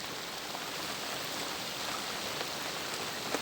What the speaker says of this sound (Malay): Cuaca hujan, gelap,